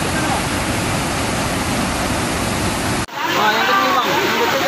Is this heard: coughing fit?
no